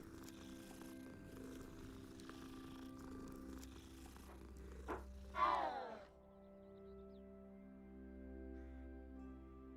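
A cat purrs in the video game Hogwarts Legacy, a faint steady rumble in a quiet courtyard, with a brief louder fluttering chirp near the middle before the purring settles.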